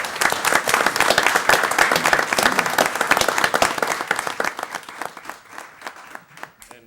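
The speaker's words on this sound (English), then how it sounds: "Let's all give these students a huge round of applause." Audience at a city council meeting applauds students called up for recognition, a dense burst of clapping that rolls on loudly then thins and fades toward the end.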